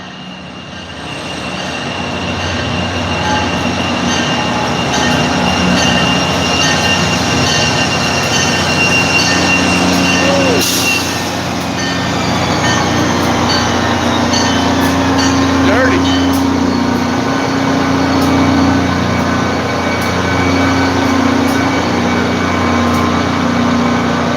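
A loud freight train rumbles past close by, wheels clattering and squealing on the rails, a continuous heavy roar throughout.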